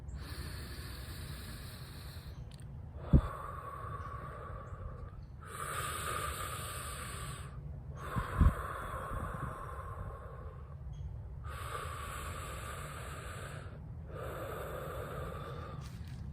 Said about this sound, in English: we're just taking 30 seconds to just breathe